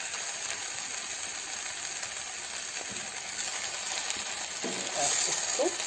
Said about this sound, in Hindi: मिक्स कर लेंगे अच्छे से।